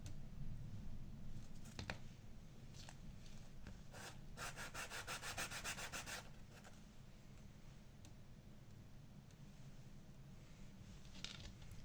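Small wooden pieces sanded by hand, a steady close rasping rub that runs on alone without talk, with a brief harsher stretch partway through.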